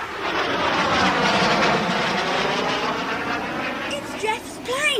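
A small airplane drones steadily overhead above heather-covered hills, a sustained engine hum that holds loud throughout and thins slightly near the end.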